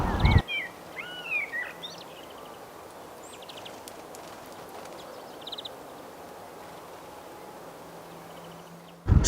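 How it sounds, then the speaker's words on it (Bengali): A few birds chirp and call in a quiet village garden, the brief trills clustered at the start and again midway. "পাখিগুলো খুব সুন্দর ডাকছিল এখানে চলো পাখির আওয়াজটা শোনায় তোমাদের"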